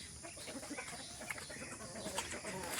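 Chickens cluck and murmur in a noisy outdoor setting on a durian farm in Davao, with scattered bird calls over a steady background hiss.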